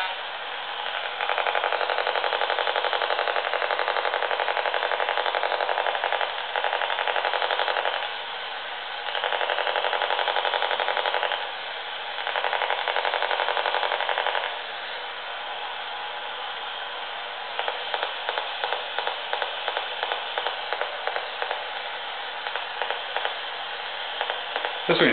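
Electromagnetic interference from a light-up children's toy picked up by an EMI detector, a loud band-limited static buzz that cuts in and out in blocks, then turns into a rapid pulsing chatter near the end.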